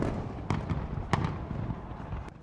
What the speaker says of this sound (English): Australia's signature fireworks over Sydney Harbour Bridge helped get the New Year's celebrations